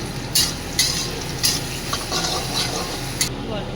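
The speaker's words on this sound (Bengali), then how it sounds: "পেঁয়াজ আর এগুলো এবার দিয়ে দেবো জিরে, গোটা জিরে আর গরম মশলা, এগুলো দিয়ে দেবো। একটু ভাজতে থাকবো।" Sliced onion with whole cumin and garam masala frying in a pan for a meat ghugni, with a steady close sizzle broken by several sharp scraping stirs of a utensil.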